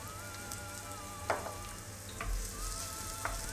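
Chopped onion sautés gently in olive oil in a pan, a quiet even sizzle with a few faint clicks of a utensil, heard close and low in level with no voices.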